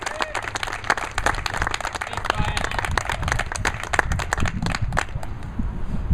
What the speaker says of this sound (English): I'd like you guys all to give him a round of applause, please.